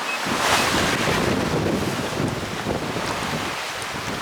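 Strong wind buffets the microphone aboard the sailing yacht Zephyr IV on a broad reach in rough sea off the English south coast, with waves rushing and splashing against the hull in a continuous loud roar.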